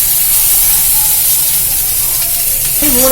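Bitter gourd sautés in a hot pan on lowered heat, a loud, dense, continuous sizzling hiss close up throughout, with a faint tonal whine near the end.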